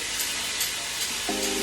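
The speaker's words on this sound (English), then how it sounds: "A nice saute." Ingredients for lamb biryani sautéing in a pan, an even, steady sizzle with gentle stirring throughout and a brief low tonal hum toward the end.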